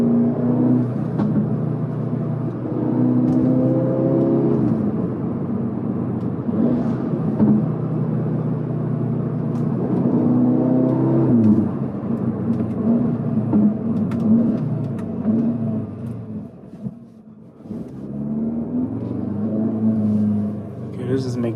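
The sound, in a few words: Audi S3 8Y engine while driving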